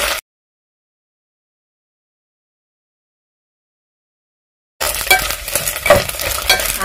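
Small omena (dagaa) fish that have turned golden brown are stirred in a frying pan: after a long silence, a close, steady sizzle rises with scraping stirring noises running through it.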